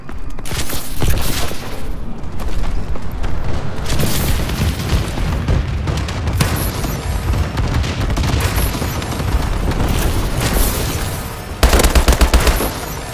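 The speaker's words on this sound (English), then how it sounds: "Friendly bombing run clearing the way." Dense, continuous battle din from Call of Duty Advanced Warfare multiplayer on the Solar map, with a friendly bombing run dropping heavy booming explosions amid rapid machine-gun bursts and gunfire, loud and sustained throughout with a sharper blast near the end.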